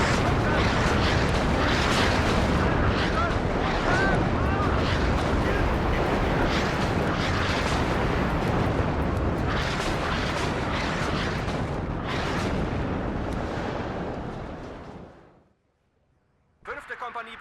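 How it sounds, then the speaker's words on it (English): Rocket artillery barrage in the WARNO strategy game: a dense, continuous roar of overlapping blasts and rumbling impacts that holds for about fifteen seconds, then cuts out briefly before returning. "Oh, that is rocket artillery."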